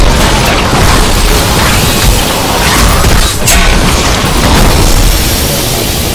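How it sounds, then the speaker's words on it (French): Explosions in Diablo 3 on Expert mode, a dense, loud, continuous rumble of booms and bursts with clattering game effects, sustained without pause and no speech over it. "Je me suis sorti des explosions in extremis."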